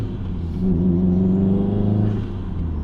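A Subaru Impreza with a racing clutch revs hard to pull away without stalling, a loud, close engine rising in pitch and holding a strained drone before easing off.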